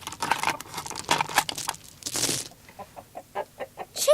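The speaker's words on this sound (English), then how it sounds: "Chickens. They're hungry." Chickens in a video game cluck in a run of short, evenly spaced calls, mid-loud and close, following a busier stretch of game sounds and effects.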